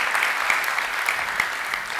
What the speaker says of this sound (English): I kind of want to give a round of applause to all the meetup and conference organizers here